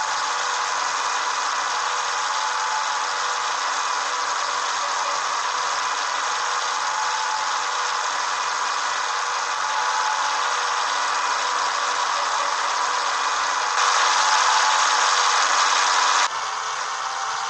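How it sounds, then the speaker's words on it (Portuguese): A Scania 111 truck running at top speed on the road, a steady loud engine roar with vibration and rattle that holds constant throughout and swells briefly louder near the end. "Esse ronca muito, hein? Ronca forte."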